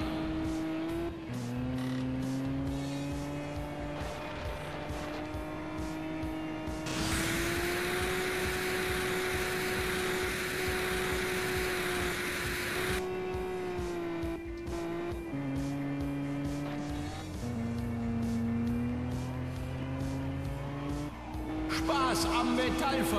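Race cars drifting in Juiced 2 during a team circuit race in Germany: steady engine whine rising and falling through gear changes, with a long hissing tire screech in the middle of the run.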